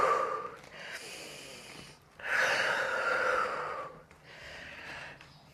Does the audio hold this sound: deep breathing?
yes